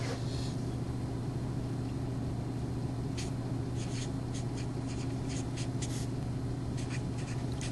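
Pen or chalk writing by hand during a multivariable calculus lecture: soft, scratchy strokes in short rhythmic bursts over a steady low hum, faint and close, with no talking.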